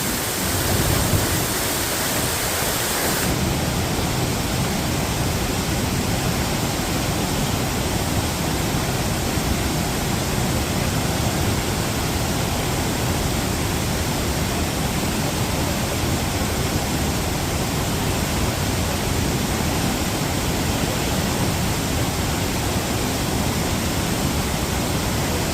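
Deojhar waterfall roars loud and close as a dense, unbroken wash of rushing water that fills the whole stretch with no voices.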